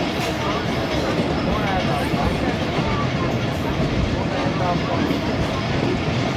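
The Hazara Express running on rails, heard from on board as a dense, steady rumble and rattle of wheels and carriages, loud and continuous with no gaps.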